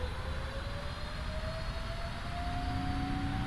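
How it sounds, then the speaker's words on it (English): GE jet engines on a Cathay Pacific Boeing 777-300ER spool up for takeoff in a flight simulator, giving a steady loud roar with a rising whine and no speech. "Oh, beautiful, the GE engines."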